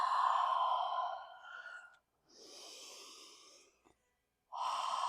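Long, breathy exhales during a gentle yoga flow forward fold, three slow audible breaths close to the mic separated by brief quiet gaps, with no speech over them.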